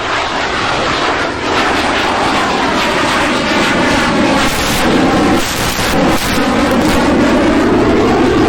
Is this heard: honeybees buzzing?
no